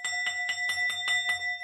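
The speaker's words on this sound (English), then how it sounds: "I'm going to be hitting the bell" A metal bell is struck in quick, even succession about seven times, each strike ringing bright and clear with sustained tonal overtones, close and alone without any talking.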